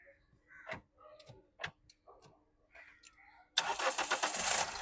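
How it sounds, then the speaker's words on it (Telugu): A 2013 Toyota Etios VD diesel car cranks and fires on the first try, its engine catching loudly near the end after a stretch of quieter clicks and background noise. "సింగిల్ సెల్ఫ్లో బండి స్టార్ట్ అవుతుంది సార్."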